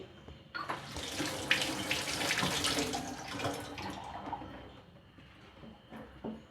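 Peeled lemons are washed under a running kitchen tap, a steady stream of water splashing into the sink with shifting gurgles and small clatters as the fruit is turned by hand, fading toward the end.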